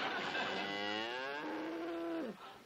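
A single long cow moo, close and loud, rising and then sliding down before cutting off, heard on its own in a scene from the sitcom The Flying Nun.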